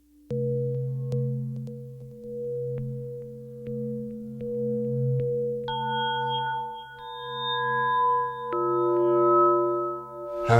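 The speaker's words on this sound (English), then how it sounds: "And we've got like a bell tone" A UDO Super Gemini synthesizer plays a detuned sawtooth patch with resonance, giving a bell-like tone: steady sustained notes, with pitches stepping upward and layering into chords over several seconds, played alone.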